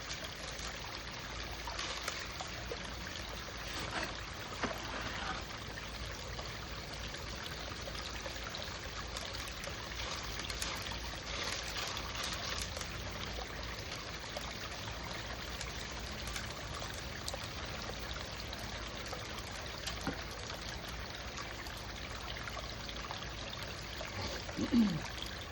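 Water recirculates through a mini highbanker gold sluice set up at home, a steady, continuous rushing and trickling flow with occasional small splashes throughout.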